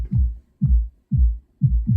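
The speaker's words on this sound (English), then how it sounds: "So we've all heard music coming from the next room or outside of a house." Music muffled through a wall, leaving only low thuds: four evenly spaced deep bass pulses, each a dull rounded boom with the upper range stripped away, heard close and fairly loud.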